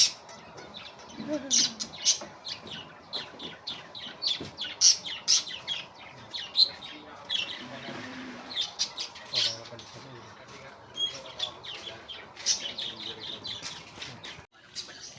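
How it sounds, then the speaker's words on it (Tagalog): Busy high-pitched bird chirps and tweets repeat rapidly throughout, with occasional squawks, over a soft background hum. "Saan na yung ibon? Ayan, may ibon pala dito."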